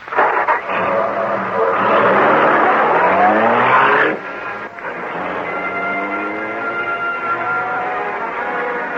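Green Hornet's car, the Black Beauty, speeds along as a radio drama sound effect, a loud engine roar that rises, cuts off around four seconds, then settles into a steadier, fainter motor hum.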